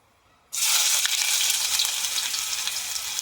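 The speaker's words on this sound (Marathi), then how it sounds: "आता तेलामध्ये आपण कांदा टाकून घेऊया." Chopped onion hits hot oil for a Malvani chicken dish, a sudden loud hiss after brief quiet, then a sustained bright sizzle that eases slightly as it continues.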